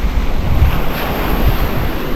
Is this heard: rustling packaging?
no